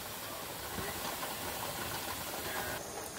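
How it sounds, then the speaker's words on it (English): A pressure canner filled with jars of mushrooms hisses steadily and hard as its steam vents, a constant broadband rush with no voices heard. "this is like it's beginning to steam hard now"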